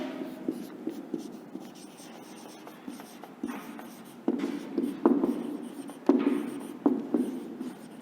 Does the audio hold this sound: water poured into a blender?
no